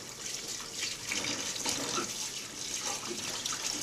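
Spring onions rinsed under a running kitchen tap give a steady, close rush of water splashing over leaves, with light shifting and handling noises and no speech.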